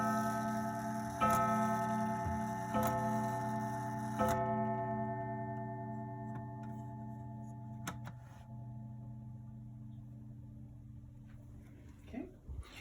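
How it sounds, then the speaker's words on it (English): An Ansonia Pulford Striker mantel clock from New York, which strikes on a gong, ticks steadily while a ringing gong tone slowly decays. Someone speaks over it. "striking mantle clock made by the Ansonia Clock Co of New York"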